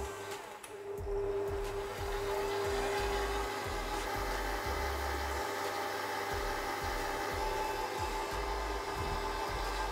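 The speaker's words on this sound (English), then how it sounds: "And we'll pop the beater on. We'll start this on first speed." An electric mixer fitted with a beater runs on first speed in a bakery, blending butter and flour for gluten-free quiche pastry, a steady droning motor hum with a low rhythmic churning that continues throughout.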